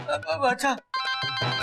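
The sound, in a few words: telephone ringing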